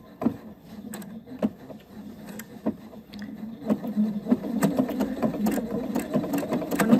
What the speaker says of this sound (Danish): at maskinen syr frem og tilbage og frem og tilbage